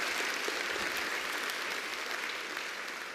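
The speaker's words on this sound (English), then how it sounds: "Please give my helpers a big round of applause as they go back to their seats." An audience at a live stage show gives steady, sustained applause for volunteer helpers returning to their seats, a dense wash of clapping that fades slightly toward the end.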